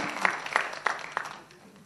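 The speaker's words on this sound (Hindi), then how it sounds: "तो एक बार जोरदार तालियां खान साहब के लिए।" Short burst of audience applause at an album launch event, a few distinct claps over a wash of clapping that fades quickly.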